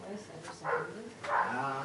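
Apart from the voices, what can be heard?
dog barking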